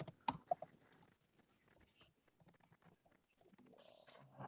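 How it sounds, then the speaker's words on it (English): Keystrokes on a computer keyboard come in scattered, faint, irregular bursts of clicks and taps, with quiet gaps between them in an indoor room. "I'm typing it in the comments."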